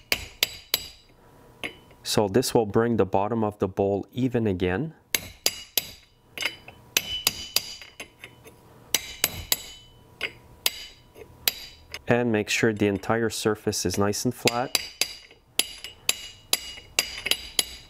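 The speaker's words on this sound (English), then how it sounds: "what you want to do is hammer it down" Sharp metallic hammer taps on a Honda-style lawnmower carburetor bowl ring out in quick bursts, each strike crisp and close, while someone talks between the tapping.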